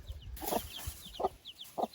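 Dominant breed broody hen with a few newly hatched chicks, giving three soft low clucks at even intervals, close and quiet, with faint high chick peeps between them and no voices.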